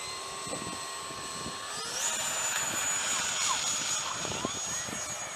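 A 64 mm ducted-fan F-22 RC model jet with gyro flying high-alpha passes, its thin, high whine rising and shifting in pitch as it passes at a distance, with a voice briefly speaking nearby.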